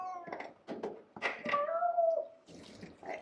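A cat meows during a bath in a too-small tub, several short cries building to one long drawn-out wail, close and clear with faint water sounds.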